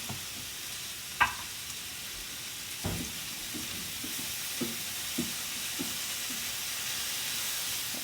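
Pork and onion frying in oil in a pan for pork chow mein, a steady sizzle and hiss with occasional sharp pops and clinks from stirring, close and alone without talk.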